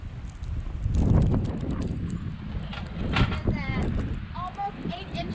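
A February 2021 blizzard in Portland blows gusty wind across the microphone in rough, swelling rumbles, with people talking close by and a few brief sharp scrapes.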